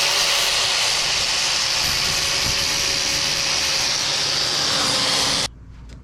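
Metal grinding to widen clearance while chopping a Mazda B2200 truck: a loud, steady, harsh broadband roar runs unbroken for over five seconds, then cuts off abruptly.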